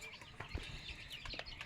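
Chickens cluck in a village yard in a brief burst of short, scattered calls at moderate distance, set against a background of outdoor noise.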